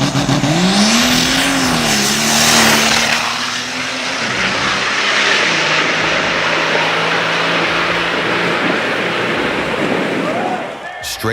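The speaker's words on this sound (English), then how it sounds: "this monster's exhaust sings a brutal, beautiful song of power." A modified diesel truck from DNR Customs roars through a loud, straight-piped exhaust. Its engine note swells and climbs, then settles into a sustained harsh drone, with a voice talking over it.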